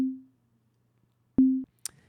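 Synthesized sine tones from Ableton Operator: two short, pure, low-pitched beeps separated by silence, each steady then cut off, followed by a tiny high blip.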